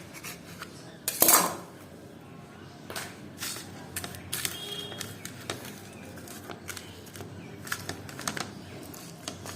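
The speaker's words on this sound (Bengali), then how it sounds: "তাই জন্য ছুরিটা দিয়ে কেটে নিই।" A knife cuts through hot roasted eggplant on a plate. A sharp clatter of metal against dishware comes near the start, followed by a run of light irregular taps and scrapes, close and moderately loud.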